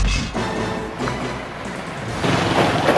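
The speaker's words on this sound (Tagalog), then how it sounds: "Dahil sa sunod-sunod at malakas na buhos ng ulan" Heavy rain from Typhoon Nando over flooded farmland in Pidig, Ilocos Norte, in Northern Luzon: a dense, steady wash of downpour with low rumbling gusts, loud and continuous, with no voices.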